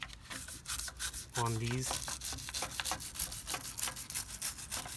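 Brush scrubbing brake dust off a car wheel in quick back-and-forth strokes, a steady rubbing texture throughout with a brief tonal squeak, while someone speaks briefly.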